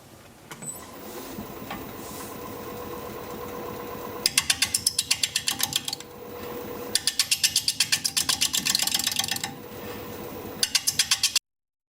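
A wood lathe spins an out-of-balance yew bowl at 490 RPM as a 5/8 inch bowl gouge cuts into it: a steady motor hum broken by loud bursts of rapid, rhythmic chattering that start and stop several times.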